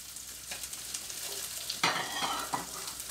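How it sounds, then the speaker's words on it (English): Onions frying in oil in a pan give a soft, steady sizzle with a few louder bursts and scrapes as they are moved about. The sound is close but fairly quiet, and no one talks. "Bit of oil now. Again, now get your onions in."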